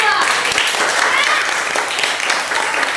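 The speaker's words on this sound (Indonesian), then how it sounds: "Tepuk tangan untuk kelompok" Schoolchildren in a classroom clap for a student group after their work is praised, a dense, fairly loud burst of applause that continues steadily for a few seconds.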